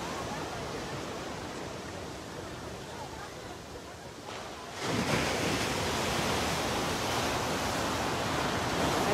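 Ocean surf rolls in at a Capitola, California surfing spot at night: a steady, broad roar of breaking waves that swells noticeably louder about halfway through and stays heavy after.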